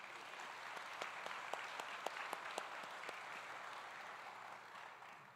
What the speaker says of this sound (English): Please help me in giving them a warm round of applause.